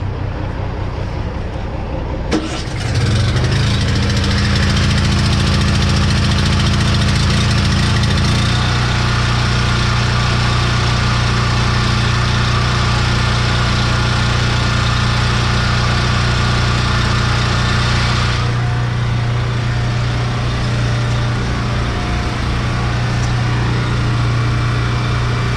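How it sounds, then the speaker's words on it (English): A brand new small engine motor with a faulty choke cable cranks at about two seconds, catches and runs loud and steady close by, settling into a lower idle partway through. "Imagine a brand new motor. It won't start if it ain't choked though."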